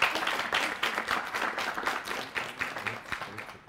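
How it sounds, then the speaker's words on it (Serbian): An audience at a school debate gives the affirmative team a moderate round of applause, many hands clapping in a quick, uneven patter that gradually thins out. "Aplauz za afirmaciju"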